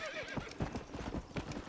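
Horse hooves clip-clopping in a fast rhythmic gallop in the Red Dead Redemption video game, close and steady, with a brief whinny at the start.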